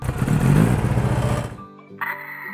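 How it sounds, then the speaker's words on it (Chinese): A toy police motorcycle's electronic engine effect: a loud, steady revving roar for about a second and a half, then a sudden cutoff followed by a few short electronic tones. "警用摩托车出发。"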